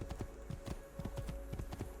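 Horse hooves clip-clopping in Assassin's Creed II, a quick, even trot of hollow knocks on hard ground, close and steady over a faint background hum, with no talking.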